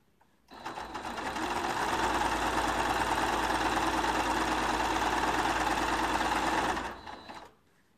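A sewing machine stitches a quarter-inch seam on the binding of a large quilt, a close, steady mechanical whirr that starts abruptly, runs for about six seconds and then winds down.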